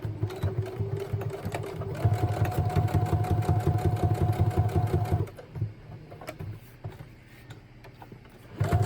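A sewing machine sews a straight stitch and then a back stitch while tags are made in a craft session, a rapid close mechanical chatter that runs steadily, pauses, and starts again in shorter bursts.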